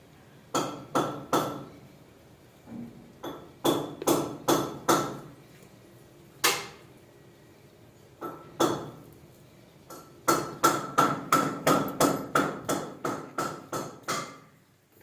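Hammer blows ring out while a new kitchen exhaust fan is installed in a home kitchen, sharp strikes landing in quick clustered runs with short pauses between, close and loud against a quiet room.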